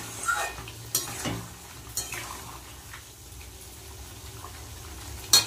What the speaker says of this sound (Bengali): ভালো করে সবজি দিয়ে মশলা দিয়ে কষিয়ে নেব।